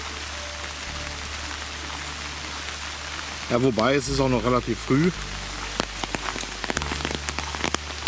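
Steady rain falling outdoors at an open-air museum in Detmold, a constant hiss on surfaces throughout, with people talking briefly over it in the middle.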